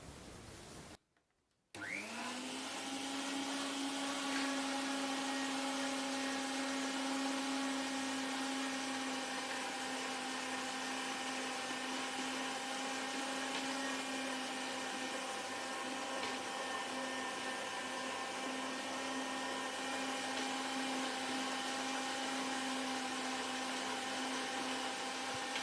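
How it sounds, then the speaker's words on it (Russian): Electric meat grinder mincing meat, potato, onion and bread for cutlets, switching on after a brief pause into a loud, steady motor whine that holds for over twenty seconds, close by. "Пропустили наше мясо. Вот такой фарш."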